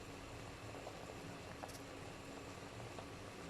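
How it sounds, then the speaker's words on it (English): A pot of water at a rolling boil while yam cooks, giving a steady, dense bubbling hiss with faint popping throughout, fairly close and without talk. "You see how it's boiling? See how it's boiling?"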